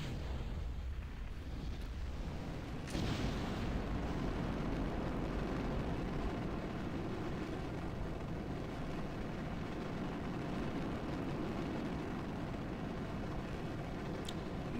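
Small ullage rocket motors burning on a craft in Kerbal Space Program, a steady broadband roar at low volume that swells after a faint ignition pop and holds evenly throughout.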